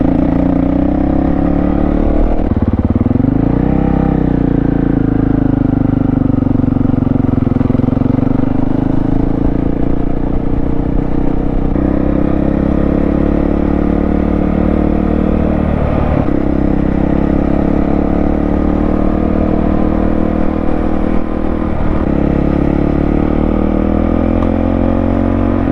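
Honda CRF dirt bike ridden over clay and sand on an adventure trail, its engine droning loud and continuous for the whole stretch, rising and falling with throttle changes and gear shifts, with wind buffeting and no talk.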